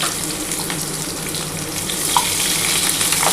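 Chopped onions, two of them, fry in hot oil in a pan with a loud, dense, steady sizzle and crackle, a few faint clicks near the end, no voices.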